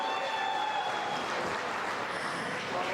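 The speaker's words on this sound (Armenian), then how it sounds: "Բայց Գևոր քերու պատվին պասիվա ծափերը, մի հատ ժիգարով ծափերը ձեր ցավը տանեմ։" A crowd at a celebration claps in honour of a guest named Gevor, a steady, dense wash of applause held at an even level throughout, with no pauses.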